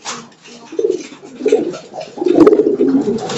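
Two young pigeon squabs cooing close by, giving soft, low, throaty coos in short repeated bursts that grow slightly louder toward the end.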